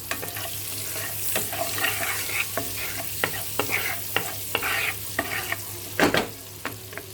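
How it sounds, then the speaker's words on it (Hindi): Sugar caramelizing in a hot pan for shahi paneer, sizzling steadily while a utensil stirs and scrapes with irregular clinks, close and moderately loud with no talk. "और इसमें मैं डालूँगी थोड़ा सा शुगर, 1/4 टीस्पून, इसको कैरामलाइज करने के लिए।"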